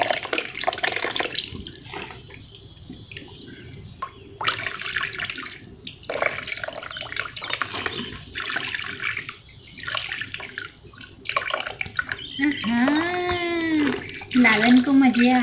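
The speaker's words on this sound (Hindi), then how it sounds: "गीतू शावर डालो" Water from a shower sprayed over a small idol in a pool, a splashing, running flow with drips that comes and goes, close, under someone speaking and a child's high-pitched voice.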